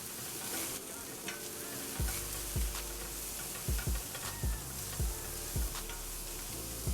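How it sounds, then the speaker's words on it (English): Onions fry in a pan with chicken livers, a soft constant sizzle beneath repeated sharp scraping strokes of a utensil against the pan bottom, close and fairly quiet, with no speech. "So I'm trying to scratch all the flavor loose onto the onions."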